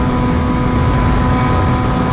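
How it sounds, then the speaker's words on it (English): A BMW HP4 Race motorcycle fitted with a loud exhaust rides at night, giving a steady, dense, close engine roar that holds without a break throughout. "That's another thing about putting a loud exhaust on this thing"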